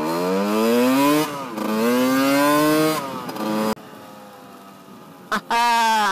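A Yamaha DT 50 50cc enduro motorcycle engine buzzes loudly at high revs, its pitch climbing and falling in strong sweeps, then cuts to a quieter idle before a short final burst.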